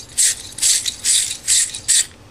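A 1 3/8 inch wire brush scrubs a copper HVAC fitting in five rhythmic, loud, raspy strokes, close up, with no talking.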